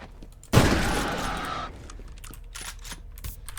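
A loud shotgun blast booms in the F.E.A.R. video game, one sharp report followed by a decaying roar, then quieter game ambience.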